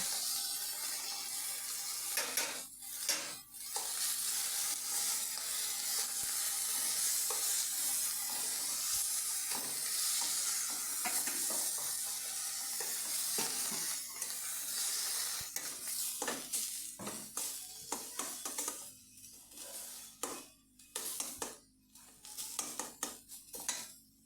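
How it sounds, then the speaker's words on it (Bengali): Boiled spinach paste frying in a splash of ghee in a wok, with a steady sizzle and repeated scraping and clinking of a utensil as it is stirred, close and continuous, easing into sparser stirring near the end. "কড়াইতে সামান্য ঘিয়ের ছিটা দিয়ে আমি সিদ্ধ করা পালং পেস্ট এতে দিয়ে দিচ্ছি"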